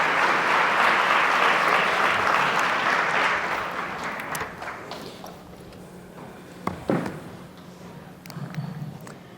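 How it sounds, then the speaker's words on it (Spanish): Church congregation applauding teacher Margarita, a strong burst of clapping that gradually fades out, followed by a few isolated claps and quiet room noise. "fuerte el aplauso para la maestra Margarita"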